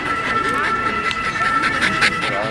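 A small dog pants rapidly in the Parc des Buttes Chaumont in Paris, the steady breathing running through the whole moment with faint yips and whimpers mixed in, while a person talks over it and city ambience fills the background.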